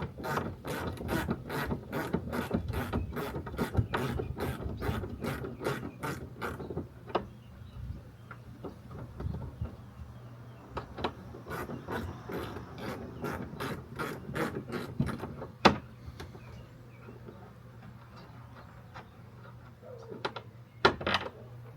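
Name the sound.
socket wrench ratcheting on Yamaha WaveRunner bolts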